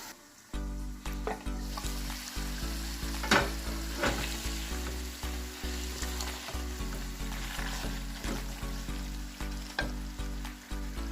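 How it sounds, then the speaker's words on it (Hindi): Chicken and tomatoes for biryani sizzle steadily in a pan, a constant close crackling fry with occasional sharper pops and a low hum underneath. "अब हम इसको कवर करके 3 से 4 मिनट हल्की आंच पर पकाएंगे।"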